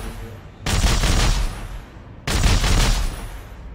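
Two loud, close bursts of automatic gunfire from the Dead Space 3 video game, each lasting about a second, separated by a short quiet gap.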